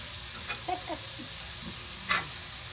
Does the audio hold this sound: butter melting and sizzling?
yes